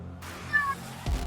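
A real cat meows once, a brief faint cry in the middle of a quiet room with low background hum and noise.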